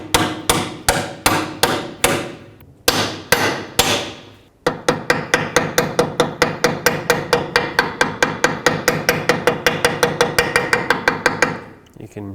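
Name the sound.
hammering a seal into axle housing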